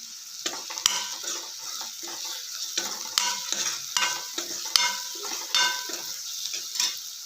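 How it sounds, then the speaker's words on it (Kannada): A spoon scrapes and stirs spices frying in a pan for green beans palya, giving repeated sharp clinks and scrapes over a soft, steady sizzle, close and moderately loud. "ಚೆನ್ನಾಗಿ ಮಿಕ್ಸ್ ಮಾಡ್ಕೊಳ್ಳೋಣ."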